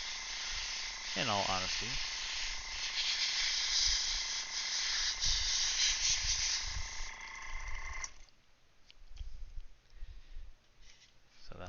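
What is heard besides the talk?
airbrush spraying paint on a Gunpla model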